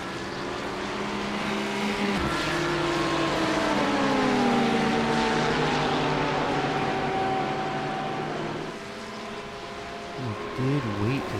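Hypercar racing engines in the iRacing sim during an IMSA race, a sustained high whine with pitch sweeping up and down through gear changes, shifting to a lower, rougher note near the end, fairly loud and continuous.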